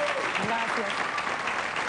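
Studio audience applause on a television talk show, a brief wash of clapping running under a man's spoken thanks.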